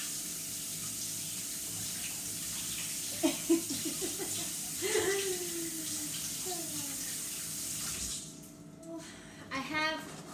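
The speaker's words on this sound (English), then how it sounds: "because I touched egg, I'm going to wash my hands for 20 seconds" Tap water runs steadily into a kitchen sink while hands are washed after handling egg, a constant rushing wash with voices, including a child's, speaking briefly over it before it cuts off near the end.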